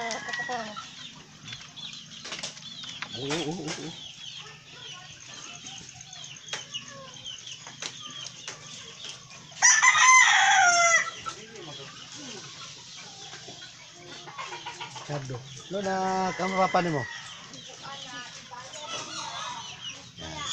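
Hens cluck and call on and off, with a louder burst of fowl noise midway, while a person talks intermittently over steady outdoor ambience.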